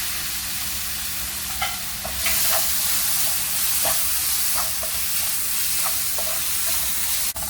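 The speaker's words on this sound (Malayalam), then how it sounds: "അതിലേക്ക് കാപ്സിക്കവും ടൊമാറ്റോവും കൂടിയിട്ട് ഇടുന്നുണ്ട്." Capsicum and tomato sauté with onion in a hot pan, giving a steady close sizzle throughout with scattered light clicks and scrapes of stirring; no voices.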